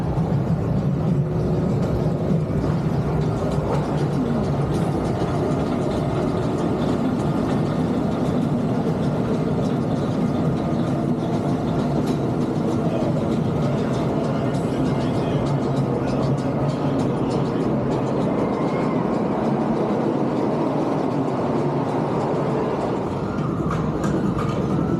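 Continuous rumbling clatter of the Jaguar roller coaster at Knott's Berry Farm runs along its track, loud and steady, with faint voices mixed in.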